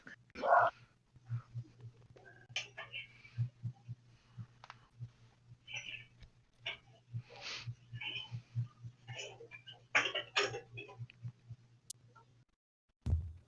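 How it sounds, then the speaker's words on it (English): Excited dogs barking in short scattered bursts, fairly distant and faint, with a steady low hum running underneath. "my dogs are going crazy"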